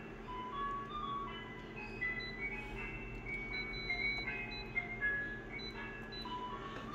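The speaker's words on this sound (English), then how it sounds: "there's that fucking ice cream truck making that horrible, creepy," An ice cream truck, a pink one, plays its tinkly, creepy jingle a little way down the street, a faint melodic chime over a steady low hum of background noise.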